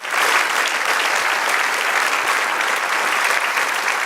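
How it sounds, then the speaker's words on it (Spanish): Church congregation giving a loud, sustained round of applause to the Lord during a sermon; dense, steady clapping from many hands, close and full, with no speech over it. "Da un aplauso al Señor."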